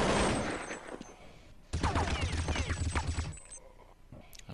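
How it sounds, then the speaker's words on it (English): Rapid bursts of gunfire from Counter-Strike on the de_nuke map, with a dense volley at the start, a short gap, then another sustained stream of shots under excited commentary. "Great headshots by Zone"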